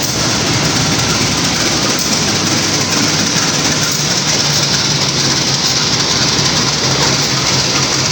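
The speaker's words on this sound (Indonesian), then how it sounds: "kereta api Sri Tanjung ditarik oleh lokomotif dinas CC201 yang menggunakan jenis livery vintage" The Sri Tanjung passenger train, hauled by a vintage-liveried CC201 diesel locomotive at Surabaya Gubeng, produces a loud, steady rumbling roar that fills the whole stretch without pause, with no talking.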